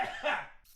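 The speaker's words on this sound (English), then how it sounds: "I have a terrible cough" A single short, faint cough, one breathy burst that trails off quickly.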